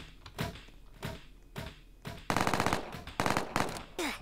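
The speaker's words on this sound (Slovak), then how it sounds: "A tu sa chlapci strieľajú." Gunfire in the Roblox game: single shots repeat at a steady pace, then rapid automatic bursts rattle out loud and close, ending in a final short burst.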